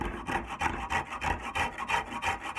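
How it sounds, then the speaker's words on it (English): A wood rasp bites into a wooden handle, shaping a gradual curve with steady back-and-forth rasping strokes, close and fairly loud, roughly five rhythmic passes a second. "I'm using this wood rasp and I'm bringing that in. See how that bites away and eats it right out of there"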